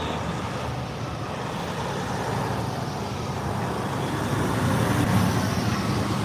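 Road traffic rumbles continuously as a truck rolls past, a broad low roar that swells toward the end, fairly close, with no speech.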